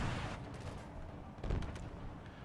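Sniper rifle fire in the Halo Infinite video game comes through as faint, distant sharp cracks and a muffled boom over a busy game background.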